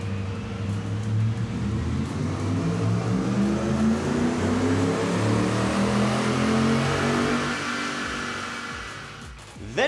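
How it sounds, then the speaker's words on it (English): A stock 2011-2014 Ford F-150 pickup with the 5.0L V8 on 87 octane runs on a chassis dyno, its engine note climbing steadily through a long rev and dropping off abruptly at the end, loud and close with no talk. "we threw our stock F-150 on the dyno, and we got some baseline runs using 87 octane"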